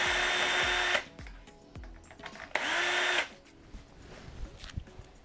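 A power screwdriver backs a screw out of the upper rear of a dishwasher in two close, whirring bursts of about a second each, separated by quiet handling clicks and soft knocks.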